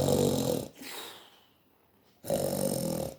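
A giant ogre snores loudly in a storytelling sound effect, deep rumbling rasping inhales separated by a quiet pause, close and heavy.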